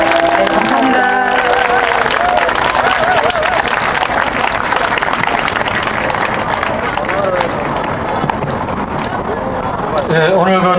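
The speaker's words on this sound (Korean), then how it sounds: "다시 한번 박수 부탁드립니다" Crowd applause at an outdoor candlelight vigil, dense continuous clapping mixed with music and voices, loud and close throughout.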